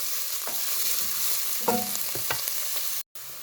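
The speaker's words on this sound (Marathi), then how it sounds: "तेल आमगेलें जालें गरम, तितून हांव घालता पियाव. ताका मातशें सौते करता." Onion sautéing in hot oil in a pot for a Goan prawn and bhindi curry: a steady, close sizzle with a few scraping stirs and clicks of a utensil, and a brief gap near the end.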